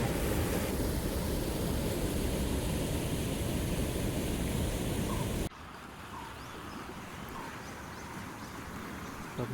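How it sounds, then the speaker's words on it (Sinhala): Water falling and flowing in a shallow, slow stream under kumbuk trees, a continuous close rushing wash that drops abruptly to a softer, more distant flow partway through. "මේ වගේ ලස්සනට වතුර වැටෙනවා."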